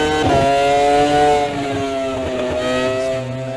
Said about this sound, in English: You can hear the engine spiking its revs there as it goes through the puddle